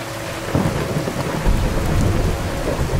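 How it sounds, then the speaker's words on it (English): Steady rain with rumbling thunder from a weather mod in a video game, a dense continuous downpour with low booming rolls swelling around one and a half seconds in, loud and close with no talking. "Typical rain."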